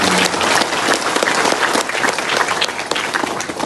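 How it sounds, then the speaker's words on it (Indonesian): An audience at a school event applauds student performers, with loud, dense clapping from a crowd that continues without pause, close and full. "Kita berikan tepuk tangan buat mereka."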